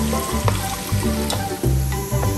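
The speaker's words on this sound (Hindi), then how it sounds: "अनियन को लाइट ब्राउन होने तक फ्राई करेंगे।" Two medium onions fry in hot oil for a chicken pulao, giving a loud, close, continuous sizzle broken by the scrape of stirring, with no talking.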